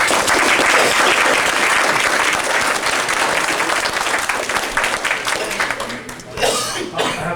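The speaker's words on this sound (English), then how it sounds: "if you can please hold your applause at the very end" Audience applause at a local political debate, sustained clapping from a crowd that tapers off near the end, with a cough or two mixed in.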